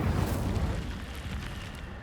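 A fiery Incendio spell bursts in Hogwarts Legacy, a loud deep whooshing blast that swells at once and then rolls off into a fading low rumble, with no other sound over it.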